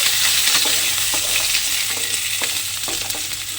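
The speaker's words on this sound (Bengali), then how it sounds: "দিয়ে এবার আলুটাকে একটু লাল করে ভেজে নেব।" Boiled potatoes frying in oil in a pan, a continuous bright sizzle with light stirring scrapes and clicks, close and steady throughout.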